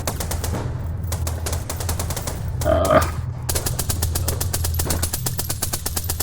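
Rapid automatic gunfire in the video game The Extendables, a loud, steady stream of shots that briefly pauses around the middle, marked by a short grunt, then resumes at full pace.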